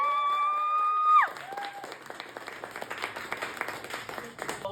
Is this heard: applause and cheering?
yes